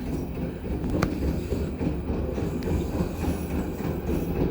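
The last carriage of the long Ambarawa Ekspres passenger train runs on the rails near Bojonegoro, giving a steady close rumble with rhythmic clickety-clack and faint wheel squeals, and no one talking.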